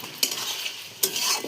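Poultry meat being stirred as it fries in a pan for a thick, dry-style curry, with two sharp scraping strokes over a steady close sizzle.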